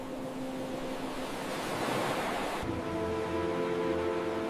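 Ocean waves wash steadily onto the shore in Busan, a continuous broad rushing surf with no voices.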